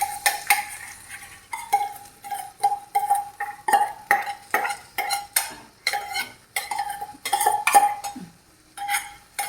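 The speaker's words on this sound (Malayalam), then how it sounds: "ഇഞ്ചി പച്ചമുളക് ചെറിയ വെളുത്തുള്ളി ഉള്ളി ചതച്ചത് ചെറിയ ഉള്ളിയാണ് ചതച്ചത് നമുക്ക് വഴറ്റി കൊടുക്കാം" A spoon or spatula clinks repeatedly against a pan while crushed ginger, green chili, garlic and shallots are stirred, a quick regular rhythm of metallic taps and scrapes, close up with only a faint sizzle beneath.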